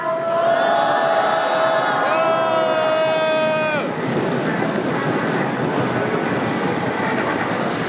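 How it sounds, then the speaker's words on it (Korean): A crowd at a candlelight rally in Incheon demanding the president's resignation breaks into loud, sustained cheering and noise, right after a voice speaking over an amplified system falls silent. "환호로 모시겠습니다."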